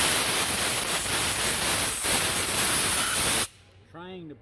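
Compressed air blasts penetrant out of rusty Ford truck running boards, a loud steady hiss that runs for about three and a half seconds and then cuts off abruptly, leaving a brief quieter tail with a faint voice.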